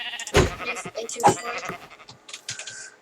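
Two distinct sheep bleats from a Minecraft video game ring out close by, one right after the other, followed by softer animal murmurs and faint background noise.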